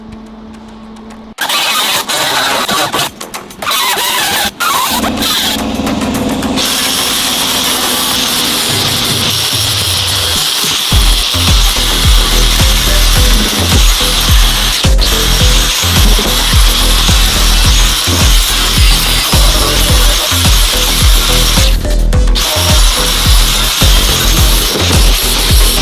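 A power tool starts up and runs steadily, grinding at a metal patch on the passenger side of a 1974 VW Beetle body under restoration, loud and close, with rasping scrapes and a brief dip partway through.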